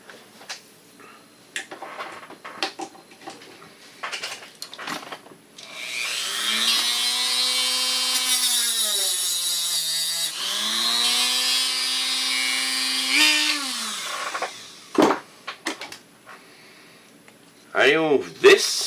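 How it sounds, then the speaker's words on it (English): Dremel rotary tool grinding out a rivet on a Kodak Carousel 760H slide projector: two close, high-pitched whining bursts of several seconds each, pitch sagging under load, with quiet handling clicks and taps around them. "So, I want to remove the rivet that is here and put a new one. So, with my Dremel"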